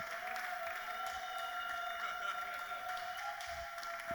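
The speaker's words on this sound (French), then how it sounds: "Beaucoup d'acclamations" Steady applause from a church audience at a French-language Bible study gathering, a continuous wash of clapping that holds at an even level throughout.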